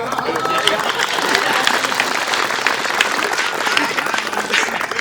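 Crowd applause at a live Hindi comedy or poetry stage event, brisk loud clapping from many hands that continues steadily for about five seconds with scattered voices underneath.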